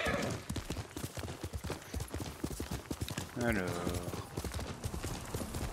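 A horse's hooves clip-clop in a steady rhythm in the video game Ghost of Tsushima, mixed under someone speaking French and game sounds.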